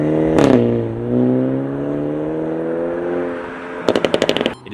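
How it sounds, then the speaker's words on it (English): A Hyundai i30 N Sedan with a turbo four-cylinder and dual-clutch automatic revs loudly and climbs through the range, then a rapid burst of sharp crackles and pops rattles from the exhaust near the end. "The exhaust starts to burble, crackle, and pop, and with the dual-clutch auto, you get those sharp upshift sounds"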